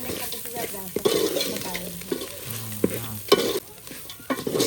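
Prawns sizzle steadily in a hot pan while a utensil scrapes and stirs, with clattering knocks now and then, close by and fairly loud.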